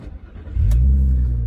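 A 2005 Audi TT Quattro with a 3.2 VR6 engine starts up, a brief crank giving way to a loud, close, steady low exhaust rumble that holds for the rest of the moment.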